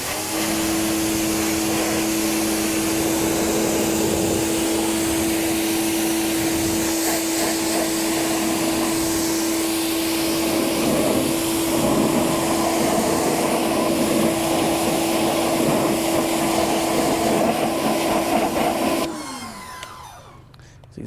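A car wheel being rinsed of dirt with a strong water spray makes a loud, continuous hiss over a steady machine hum, then cuts off just before the end.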